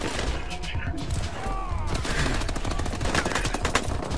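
Call of Duty: Advanced Warfare online match gunfire, rapid automatic bursts and sharp shots crackling densely throughout, loud and close, with players talking over the shooting.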